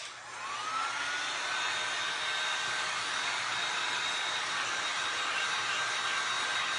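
A hair dryer blows steadily and loudly at close range over a glass and resin cross, a constant whooshing roar with a faint high whine that holds for the whole stretch after a quick start.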